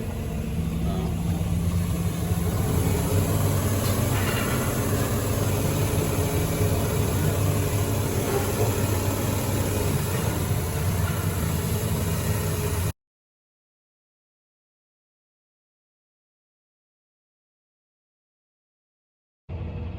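A farm tractor with lowered tyre pressures rumbles steadily as it pulls into a miscanthus field, a loud continuous engine drone that cuts to silence partway through before briefly returning.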